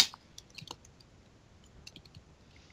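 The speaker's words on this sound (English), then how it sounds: "You hear him typing" Sparse, faint keyboard clicks tap out in small irregular clusters against near silence.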